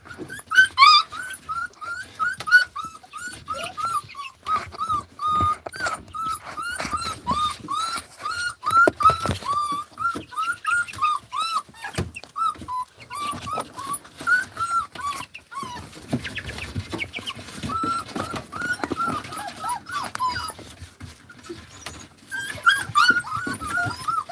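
A litter of mini poodle or doodle puppies whimpers and yips continuously for their mother, high thin cries overlapping in quick, restless bursts, close and steady throughout with occasional rustling and thumps.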